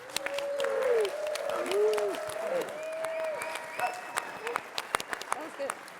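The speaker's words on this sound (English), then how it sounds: "Let's have one last round of applause for these inspired leaders." Audience applause at a tech conference session, a steady wash of clapping from a room of attendees that swells, then thins into scattered claps, with a voice talking over it in the first half.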